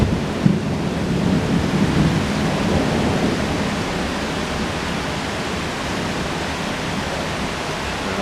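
A heavy thunderstorm in Pattaya, Thailand: dense, steady roar of rain and rumbling thunder, loud and continuous throughout, with a low rolling swell near the start and no voices.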